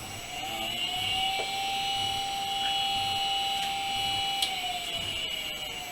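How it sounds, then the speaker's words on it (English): A furnace hums into operation with a steady, droning whine and a faint rising tone, continuous and mechanical, with a few small clicks. "Just the furnace starting up, so I've just turned it off for the moment."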